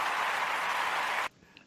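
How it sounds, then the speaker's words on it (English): A podcast host plays an applause sound effect, a short dense burst of clapping and cheering at even loudness that cuts off abruptly, followed by near silence. "I got to hit some applause"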